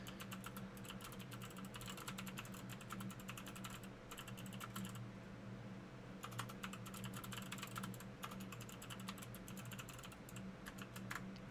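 Rapid keystrokes on a computer keyboard come in dense bursts with short pauses, sitting close and steady over a low background hum.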